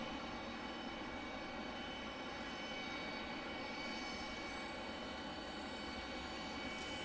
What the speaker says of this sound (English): So it looks like Delta 2334 to Bradley is on the takeoff roll